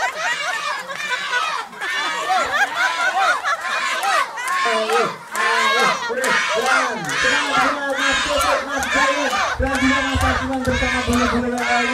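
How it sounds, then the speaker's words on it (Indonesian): A crowd of spectators at a local Independence Day contest shouts and cheers together, loud and continuous with overlapping voices, chants and calls throughout. "Mari kita bersorak bersama-sama"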